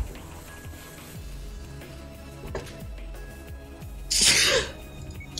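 A single loud, sharp sneeze bursts out near the end over a quiet room background with faint low knocks, no speech.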